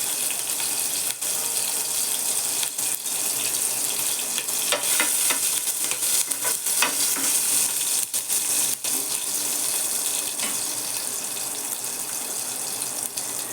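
Green chilies frying in a pan, a steady broadband sizzle running continuously throughout with occasional sharper crackles and pops, close and fairly loud, no voices.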